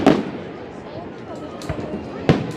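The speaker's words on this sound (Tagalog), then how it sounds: "Fireworks up in the circle." Two sharp Canada Day firework bangs in Regina, Saskatchewan, one at the start and another a couple of seconds later, with crackling and hiss between them at moderate distance.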